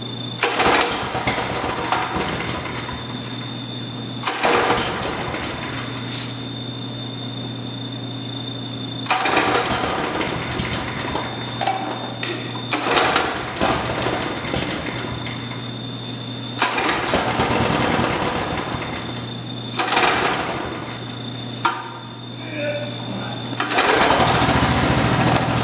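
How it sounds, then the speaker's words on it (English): Small Briggs & Stratton engine running on a vapor carburetor, a loud close buzzing drone that repeatedly surges and dips as the throttle changes, with a steady hum throughout. "There's the motor running on just vapors."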